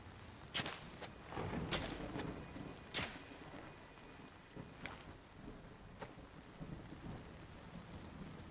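Rain falls steadily in the Nightingale video game while thunder cracks several times, sharp close claps early on, then fainter rumbles under the soft, constant downpour.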